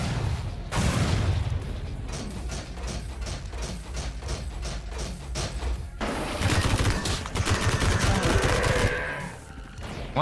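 A blast and the ensuing rapid gunfire in the action game MADNESS: Project Nexus: a loud burst opens, then dense rattling shots continue steadily, a second heavy burst follows midway, and the clamor tapers off at the end.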